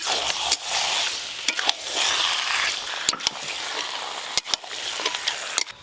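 Leaf paste and curd are sautéed in a pan: a loud, continuous hiss of frying broken by sharp clicks and scrapes of a spoon against the pan at irregular intervals.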